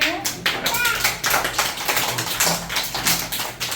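Children in a classroom clap along in irregular bursts during a vegetable-themed lesson, fairly close, with a teacher's and kids' voices talking over and between the claps.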